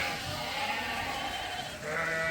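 Lambs bleat in a barn during cold, snowy weather, with several overlapping nasal cries at a moderate distance over a steady background rumble and one louder bleat near the end.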